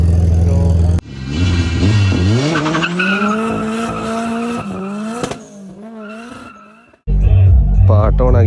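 A Nissan GT-R skids with long squealing tires and a rising engine whine, loud and close at a grass car event in Abu Dhabi, with a brief different engine roar at the start and end.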